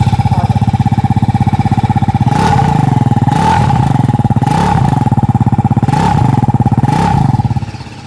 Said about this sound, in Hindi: अब अगर इसको ऑन करते हैं तो ये आपकी एग्जॉस्ट नोट इस तरीके से